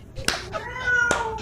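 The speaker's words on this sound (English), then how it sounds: "I believe it's an African gray living in a house with a noisy cat" A cat meows noisily, two loud, drawn-out wailing meows close by, heard as a clip played back on a podcast about an African grey parrot living in the house.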